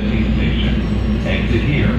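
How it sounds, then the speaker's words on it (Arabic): Inside a metro train in Los Angeles, a steady loud low rumble and rolling hum fill the car continuously, with faint higher whine above and murmuring voices underneath. "انا في المترو"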